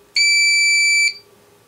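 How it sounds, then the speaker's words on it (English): An APC Back UPS 200 running on battery gives a single loud, steady electronic beep of about one second, a pure tone with harmonics that cuts off sharply into near silence. "excuse the beeping, because this doesn't have a way to silence the beeps."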